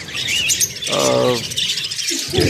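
Caged birds chirp and tweet in a bright, busy chorus, steady throughout and fairly close, with a short lower call near the middle.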